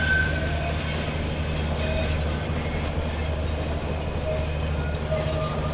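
A passenger train running from Hanoi to Da Nang in Vietnam gives off a steady, close rumble and rolling drone that carries on unbroken throughout, with no talking.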